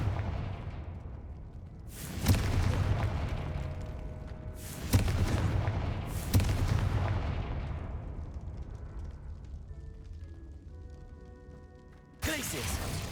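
Several heavy booming fire-blast explosions from the Confringo spell in Hogwarts Legacy go off in a loud, rumbling sequence, each trailing away, followed by a quieter stretch with game tones and a final burst.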